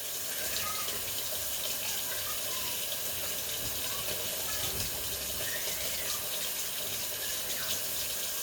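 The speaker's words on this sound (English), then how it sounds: "I'm going to get some hot water here" Hot water runs steadily from a kitchen tap into a sink, a continuous soft gushing hiss at low level with wind and distant outdoor noise behind it.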